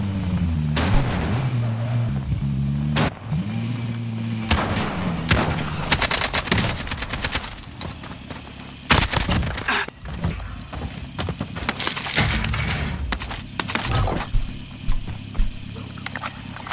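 Call of Duty: Warzone gunfire crackles in repeated loud bursts and scattered single shots over a busy game background, with low droning tones early on and the firing growing denser toward the end.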